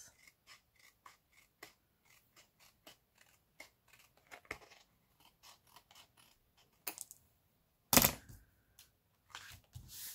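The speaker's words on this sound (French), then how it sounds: "On va couper ce qui dépasse." Scissors trimming excess paper from a scrapbook album page, a quick series of small close snips and crisp paper rustles, quiet overall with a louder crackle of handled paper near the end.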